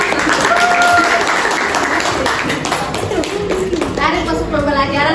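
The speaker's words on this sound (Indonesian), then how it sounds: "Semua berikan aplaus dulu." A classroom of children claps together in a sustained burst of applause, loud and close, with a few young voices and a teacher talking over it.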